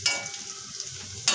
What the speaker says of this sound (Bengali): পেঁয়াজি ভাজা চলছে আমার, পেঁয়াজ ভাজা সরেনি।